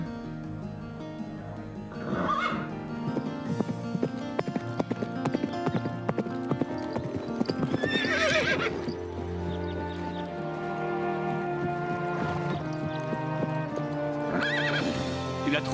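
Horses neigh and whinny with clip-clopping hooves at a stable yard, several loud calls rising over a musical score, with hoofbeats scattered throughout.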